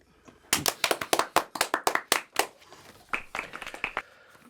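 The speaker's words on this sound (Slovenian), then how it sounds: "Aplavz!" Sparse, crisp handclaps from a small audience as a prime minister comes onto the stage, a quick irregular run of sharp individual claps that thins out and fades toward the end.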